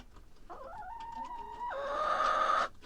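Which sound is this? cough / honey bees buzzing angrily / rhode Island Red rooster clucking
rhode Island Red rooster clucking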